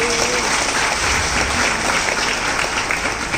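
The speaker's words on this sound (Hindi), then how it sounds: "ये नसिया वालों के लिए एक बार जोरदार ताली बजाओ।" A large religious gathering in Indore bursts into loud, dense applause for the Nasiya temple committee, a continuous wash of clapping with crowd noise filling the room.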